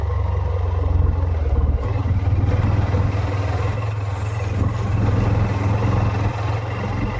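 A newly bought motorcycle's engine drones steadily and loudly at close range while riding off-road, with a constant low rumble and some clatter running throughout.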